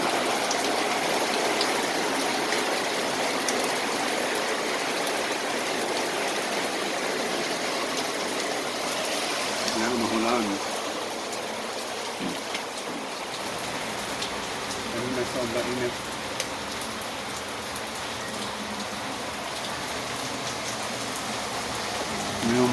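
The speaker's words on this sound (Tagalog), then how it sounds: "Malakas na ulan." Heavy rain pours steadily in a dense, continuous hiss, loud and close, with faint voices murmuring underneath.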